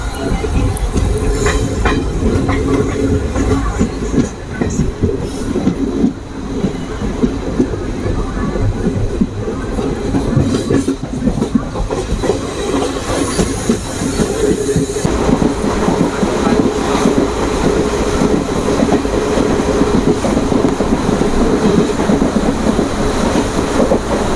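A passenger express train on the Mysore–Sengottai route rumbles steadily along the rails close by, with a continuous rolling roar and faint rhythmic clatter of wheels throughout.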